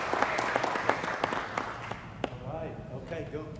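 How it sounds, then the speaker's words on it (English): Scattered clapping from an audience at a city council meeting, uneven sharp claps fading out toward the end as a voice talks over it. "Let's give this young man a round of applause for your getting out."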